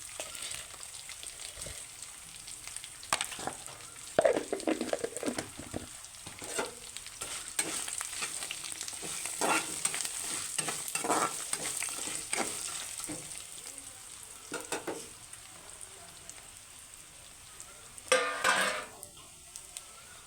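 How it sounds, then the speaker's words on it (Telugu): Rice mixed with lemon and salt goes into a pan for lemon pulihora, a faint sizzle under irregular scraping and stirring strokes, with a few louder clinks of a utensil against the pan. "నిమ్మకాయ, సాల్ట్ కలుపుకున్న అన్నం ఇందులో వేస్తున్నా."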